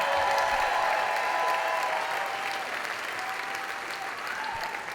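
Audience applause at a comedy show, a dense steady roar of clapping from a large crowd that fills the room and stays loud throughout, easing slightly toward the end.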